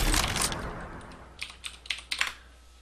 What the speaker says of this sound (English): So we're going to type exit like a pro here